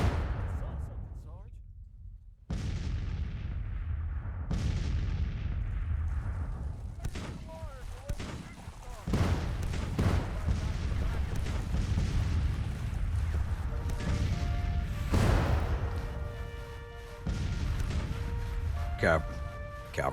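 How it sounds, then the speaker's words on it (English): Cavalry artillery guns firing in Grand Tactician: The Civil War, a Federal summer 1861 campaign battle, with booming shots and bursts repeating throughout amid continuous battle din, with someone talking over much of it. "Cavalry artillery is laying in some damage."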